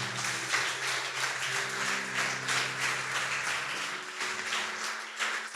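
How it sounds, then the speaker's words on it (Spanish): A church congregation applauds in praise, a fairly quiet, even patter of many hands over sustained low organ or keyboard tones that shift and drop out near the end. "Aplauda al Señor."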